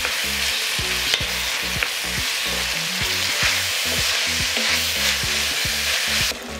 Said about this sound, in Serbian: Dodat ću luk i pržiti dok ne omekša.